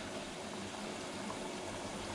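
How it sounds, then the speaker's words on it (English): A Bosch WFK2801 washing machine fills with hot water, giving a faint, steady rushing hiss of flowing liquid with no talk. "it's taking on hot water now."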